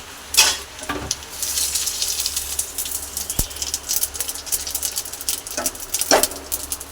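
Spices crackle and sizzle in hot mustard oil in a kadai while tempering for khichuri, a steady frying hiss with scattered pops and a few sharper snaps, close and moderately loud with no talking.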